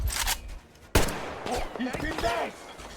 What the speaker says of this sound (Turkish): Oğlum ben vallahi sıkıyorum adamlara ya.